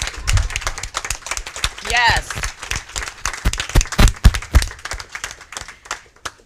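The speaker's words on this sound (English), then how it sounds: "give you a round of applause for being here" Forum audience at a Hartford mayoral candidates event claps in scattered bursts while a host speaks and cheers over it, the applause uneven and mixed with close talk.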